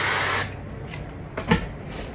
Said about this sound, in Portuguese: Já vou colocar um pouco de spray fixador